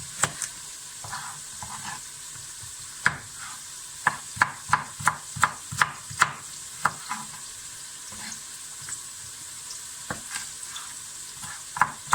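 Onions cooking in a pot for vegetable soup, with a steady quiet sizzle under repeated sharp clicks and scrapes of a spoon stirring against the pot, no voices.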